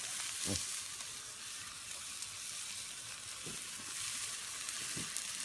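Sausages sizzling over braai coals, a soft, steady frying hiss with occasional faint pops and crackles, quiet and continuous without talk.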